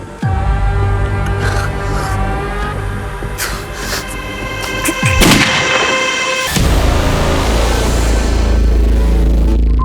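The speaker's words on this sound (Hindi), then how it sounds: "16 घंटे बाद रात को 2 बजे फिर गोली की आवाज आई है।" Loud, booming gunshots crack out a few times over a rumbling background, each blast echoing before fading.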